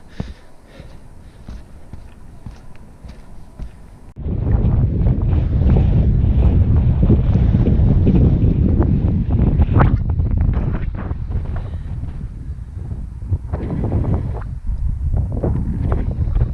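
Strong wind roars across a microphone on a foggy mountain summit, jumping from a lighter rustle to a loud, sustained buffeting blast that keeps pounding with little letup.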